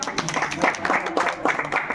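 Scattered clapping from an audience at a village farming prize ceremony, rising and falling in short bursts over a murmur of voices.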